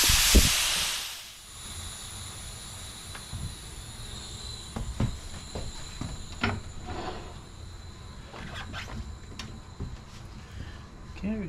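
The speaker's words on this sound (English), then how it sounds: "First things first, we got to get the air out of this thing." Air bursts from a tire's valve during deflation on a home tire machine, a sharp loud hiss lasting about a second before fading into low clatter and faint workshop noise.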